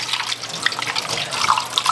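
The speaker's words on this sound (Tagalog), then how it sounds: "Kaya dapat tuloy-tuloy yung ating tubig." Tap water runs steadily into a sink while ink-soaked foam waste pads from an Epson L3110 ink tank printer are rinsed, a continuous splashing hiss with small drips and gurgles throughout.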